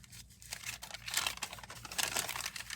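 Paper bag ephemera is folded by hand, giving close, continuous crinkling and crumpling with soft rustles and small crunches that swell and fade over a few seconds.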